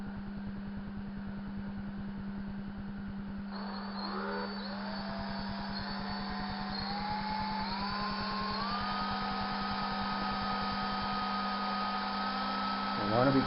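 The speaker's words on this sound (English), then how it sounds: "hit it with the drill. This is a 1/4 inch" A power drill with a 1/4 inch brad point bit whirs while boring into a Fender Stratocaster guitar body, its pitch rising in steps as it speeds up over a constant electrical hum.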